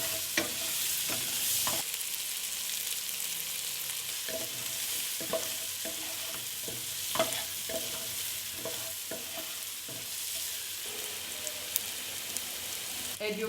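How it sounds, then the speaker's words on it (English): Finely chopped onions and split green chilies stir fry in a pan over a low flame, giving a soft steady sizzle. A spatula scrapes and clinks against the pan in repeated strokes throughout. "Stir fry them on a low flame until the onions are cooked"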